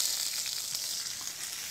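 Cheese sizzles and crackles steadily in a hot pan, a soft, bright frying hiss with no voices.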